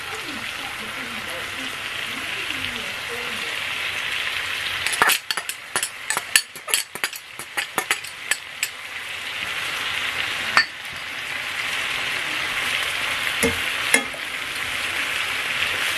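Prawns frying in a pan with green hot pepper for Jamaican pepper shrimp, giving a steady close sizzle with bursts of sharp scraping and stirring clatter in the middle and a couple of later knocks.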